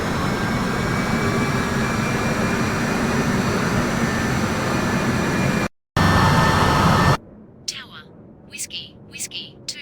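Jet airliner engines roar at takeoff power in the RFS flight simulator game, a loud steady broadband rush with a whine on top that cuts off abruptly near the end, leaving faint intermittent sounds.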